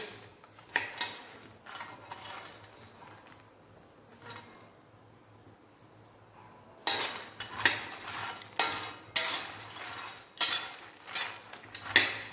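Panjiri ingredients are dry-roasted in a pan without ghee, with intermittent close scraping and clinking of a spoon against the metal, sparse at first and then quicker and busier, with no sizzle.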